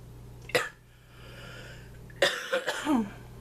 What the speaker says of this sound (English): I coughed while I was mascaraing